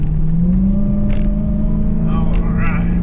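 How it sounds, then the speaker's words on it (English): A race car at an Xtreme Xperience track driving experience accelerating hard, its engine note droning and climbing steadily and loudly right up close, with a person talking over it. "Rolling on the throttle all the way up those 3 red cones"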